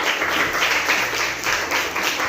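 A classroom group of teachers and students applauds a student group, steady clapping continuing evenly for a couple of seconds at moderate loudness with no talking.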